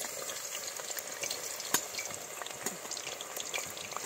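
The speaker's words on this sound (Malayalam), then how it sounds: "അപ്പം നമ്മുടെ എണ്ണയൊക്കെ നല്ല ചൂടായിട്ടുണ്ട്, നമുക്ക് നമ്മുടെ കായിട്ട് വറക്കാം കേട്ടോ അതിലോട്ട്." Plantain pieces frying in hot coconut oil, a close, moderately loud bubbling crackle with frequent small pops and a few sharper spatters, steady throughout with no voices.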